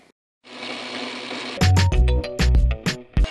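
A Logan metal lathe boring a part runs with a steady whir, then a harsh, uneven chatter of a heavier cut with low thumps and bursts, close and loud.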